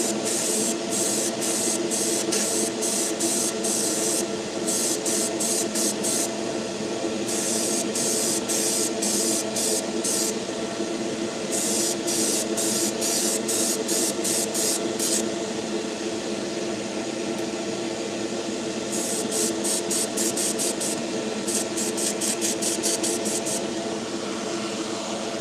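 Airbrush hissing in repeated bursts of several seconds each over the steady, loud whir of an airbrush booth extraction fan that runs throughout, with no talking.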